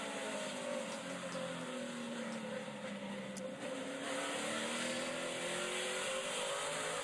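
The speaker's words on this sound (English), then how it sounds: "This is Daniel Dye's car." NASCAR Xfinity Series race car heard onboard during a race, its engine droning loud and continuous with gear changes and rising and falling revs, plus wind and road roar.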